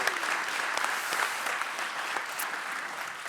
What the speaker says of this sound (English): So one more applause for